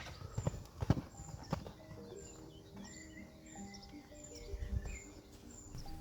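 Horse hooves clop on the footing of a training arena during groundwork, with a few strong, distinct hoof strikes near the start and again later, set against an even background and faint birdsong.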